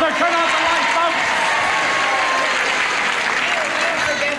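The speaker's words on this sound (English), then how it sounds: "First they applaud brush your teeth, now they're applauding." A 1970s game show studio audience applauds steadily in a dense, even wash of clapping that holds at full strength throughout.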